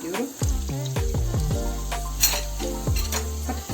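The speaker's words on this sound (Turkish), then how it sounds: "Domatesle birlikte 2-3 dakika kavrulacak arkadaşlar." Carrots, potatoes and tomatoes sauté in a hot pan, giving a loud, steady sizzle of frying vegetables with repeated scraping and clattering stirs throughout.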